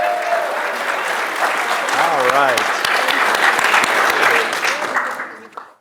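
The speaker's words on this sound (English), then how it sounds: "one more round of applause for the real star of the show" An audience claps in sustained, dense applause at a talk on Union chaplains at Gettysburg, steady and loud before tapering off at the end, with a voice speaking briefly over it.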